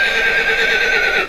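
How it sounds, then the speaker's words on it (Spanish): A horse whinnies loudly and close, one sustained high quavering neigh lasting about a second before it cuts off, with no talk. "relinchó un macho y él le respondió"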